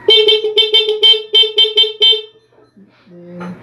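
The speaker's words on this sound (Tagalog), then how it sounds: "Yung stock horn muna natin mga kamotor." Stock horn of a Honda Click 125Fi scooter, a series of loud, close, short and longer honks in quick succession, followed by a brief quiet voice.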